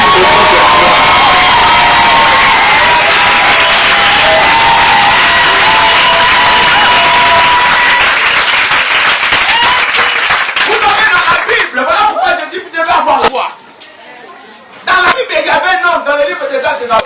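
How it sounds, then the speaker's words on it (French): A church congregation cheers, shouts and applauds in a loud, dense roar that holds steady, then thins and drops out briefly before surging back near the end, with voices mixed in. "J'aimerais que tu puisses faire un tonnerre d'acclamation à celui qui est assis"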